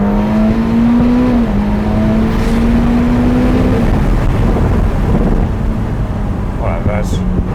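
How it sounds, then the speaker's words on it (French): A supercar that reaches 0 to 100 in about 2.2 seconds launches hard down a straight, its engine a loud, sustained roar whose tone climbs steadily, dips briefly, then climbs again before giving way to rougher road and wind noise. "on a la voiture qui gueule parce qu'on a dépassé 120"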